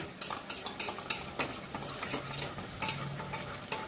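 A spoon briskly stirs cornflour into water, clinking against the bowl in a quick, steady rhythm of close taps and swishes.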